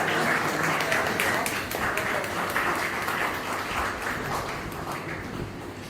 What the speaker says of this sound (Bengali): আমরা একটু জোরে করতালি দিয়ে